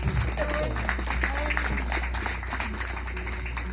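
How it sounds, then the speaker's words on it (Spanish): A party crowd claps loudly, the applause mixed with voices and a low steady hum, with people talking over the clapping throughout. "Fuerte los aplausos."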